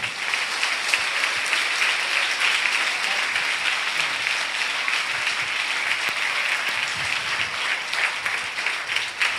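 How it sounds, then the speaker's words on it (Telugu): A church congregation at a Monday service claps loudly and steadily, a dense, even wall of applause that holds for the whole stretch with no talk over it. "అయ్యగారిని మన మధ్యకి తీసుకొచ్చిన యేసయ్యకి 2 చేతులు పైకెత్తి గట్టిగా చప్పట్లు కొట్టుదాం"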